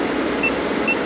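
A Daewoo Neo Amico camping air conditioner, the 2022 model, blowing in turbo fan mode indoors: a steady, fairly loud airy whoosh with a faint tonal whine, running alone.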